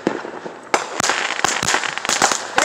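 Firecrackers at a July 4 backyard celebration, a rapid string of sharp cracking pops bursting irregularly over about two seconds, close and loud.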